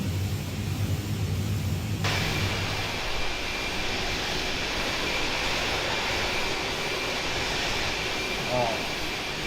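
Airbus A300 airliner engines in the MSFS2020 flight simulator give a steady broadband whoosh and hum that shifts in tone after a couple of seconds, then continues evenly with no talk over it.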